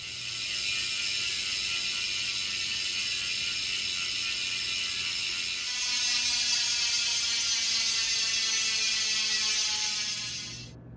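DT Swiss 370 bicycle hub freewheel with a pawl/ratchet mechanism, clicking in a rapid, continuous buzz that holds steady for about eleven seconds before it cuts off. No voices are heard.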